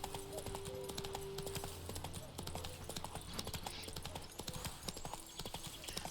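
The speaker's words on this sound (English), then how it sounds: "Like if I don't steer Roach and he's just along the path, it looks like the stamina just goes on forever." A horse in The Witcher 3 video game gallops along a path, steady close clip-clop hoofbeats running throughout, with faint game ambience and a voice talking over it.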